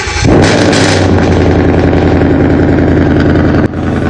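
A BMW engine with its exhaust silencer, starting up and settling into a loud, steady idle with a deep, continuous rumble that holds close and unbroken.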